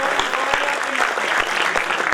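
Audience at a Hindi poetry gathering (kavi sammelan) applauding, a dense, close burst of clapping with sharp individual claps standing out, steady throughout.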